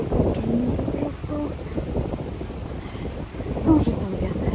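Cold, frosty wind blowing by the sea buffets the microphone in a steady, loud low rumble that surges and eases throughout, with a voice speaking briefly over it.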